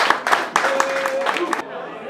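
Audience clapping at a stand-up comedy network event, with a few sharp distinct claps standing out over a dense rattle of crowd noise and voices, then ending abruptly.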